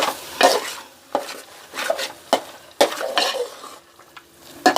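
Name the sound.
stirring carrot halwa in a pan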